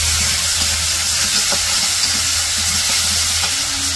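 Turmeric, chili, salt, ginger and garlic paste fried in a pan for a Bangladeshi village fish dish, giving a loud, continuous steamy hiss and sizzle with a few faint utensil knocks, no voices.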